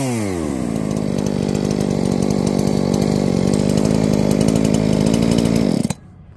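Husqvarna 357 chainsaw fitted with a Chinese carburetor runs loud and close, settling into a steady high whine for several seconds before cutting off abruptly.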